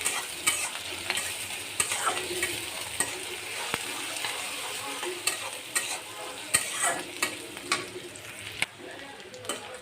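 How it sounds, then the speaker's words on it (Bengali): Onion stirred and fried in a pan: steady sizzling with repeated sharp scrapes and clicks of a spoon against the pan at an irregular rhythm, close and alone. "পেঁয়াজটা একটু নেড়ে চেড়ে ভেজে নিচ্ছি।"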